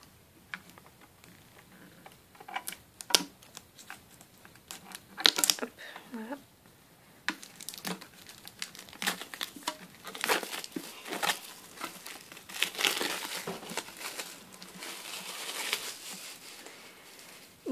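A Pokémon card box being unpacked: scattered crinkling of packaging and light ticks and taps, close and fairly quiet, growing busier in the second half.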